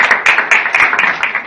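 A small seminar audience claps in a short burst, with loud, close individual claps standing out in an uneven rhythm over about a second and a half.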